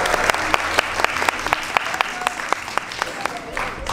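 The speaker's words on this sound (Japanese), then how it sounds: "拍手します。" A roomful of people claps at a twelfth-anniversary award ceremony, sharp individual claps standing out in a steady rhythm over the crowd while voices talk beneath.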